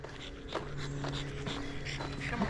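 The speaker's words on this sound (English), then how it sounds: "Hello, dog." A dog pants and snorts close by on a walk through a country park, with rapid rhythmic breaths over outdoor background noise.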